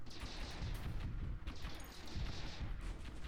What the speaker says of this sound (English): it is firing lasers